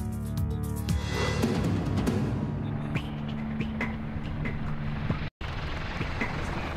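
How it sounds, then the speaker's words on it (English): An EH-101 military helicopter flies with its massive main rotor turning, a loud, continuous rumbling drone with layered engine tones that eases slightly in the second half. "Every second the EH-101 is in flight, its massive main rotor is shoving up to 45 tons of air out of its way."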